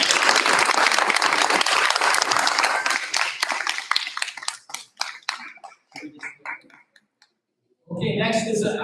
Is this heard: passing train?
no